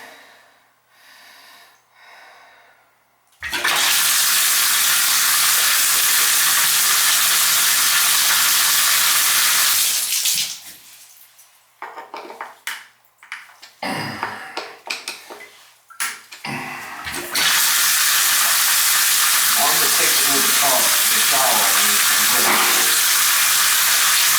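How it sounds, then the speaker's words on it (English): High-pressure hydro blaster forcing swirling water through a backed-up bathtub drain, a loud continuous hissing rush that starts after a few seconds, cuts out into gurgling and splashing, then resumes steadily. "I'll give it the old hydro blaster. Getting a little swirling action happening there."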